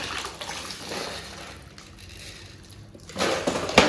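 Chilled water pours and splashes into ghee in a container, a steady gush that swells louder toward the end, close and with no talking.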